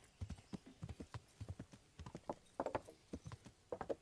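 Video game horse hooves clip-clop in a quick, uneven rhythm, a horse trotting with crisp, close hoofbeats at moderate volume and no voices.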